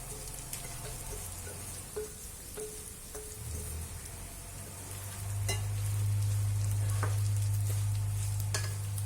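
Soaked sabudana (sago pearls) frying and being stirred in a pan, a steady sizzle with scraping and tapping from the spoon, close and continuous, with a low hum growing in the background.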